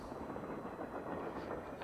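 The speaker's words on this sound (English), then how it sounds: "I'm glad you like the train noise." Steady rumbling train noise in the video game Nancy Drew: Last Train To Blue Moon Canyon, a continuous low clattering drone that holds at an even level throughout with no talk.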